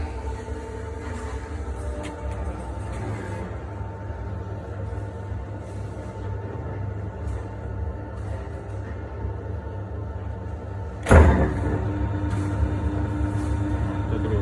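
A KEMPER 125 dough mixer starts at first speed, giving a steady low machine rumble and hum throughout with a sharp clunk partway through, no talking.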